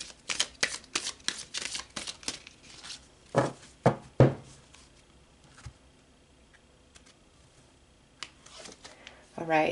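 Tarot cards are shuffled in a run of quick riffling bursts and snaps, fairly close, with pauses between, ending in another brief riffle.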